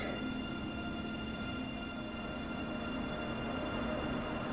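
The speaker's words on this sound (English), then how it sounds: "And here is our glorious train leaving the station." Passenger train pulling out of a station on a rainy day in Train Sim World 3, a continuous rumbling run of wheels and motor noise with a faint high whine, steady and close, with no talk.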